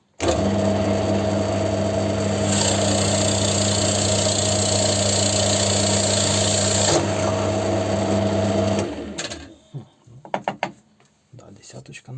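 Chinese Forstner bit from AliExpress bores into hardwood, a loud, steady grinding drill whine for about nine seconds before stopping, followed by a few scattered clunks and rustles.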